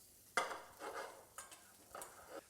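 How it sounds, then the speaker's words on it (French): Asparagus with onions sautés in a pan, heard as a quiet soft sizzle broken by a few short stirring scrapes and tosses, close and faint, with no speech. "prenons la poêle avec les oignons et nous allons faire sauter nos asperges"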